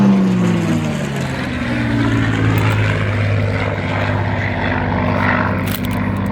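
A Supermarine Spitfire Mk IX flies a full display overhead at the 2022 Central Coast Airshow, its propeller engine roaring loudly and continuously, pitch dropping early as it passes, with no talk.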